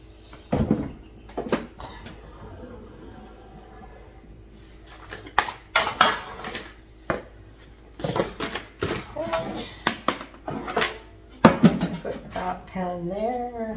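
Metal pans are set into a rotating Lazy Susan kitchen cupboard, producing scattered sharp clanks and knocks at close range, interspersed with speech.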